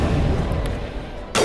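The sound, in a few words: gunfire in Mass Effect Legendary Edition video game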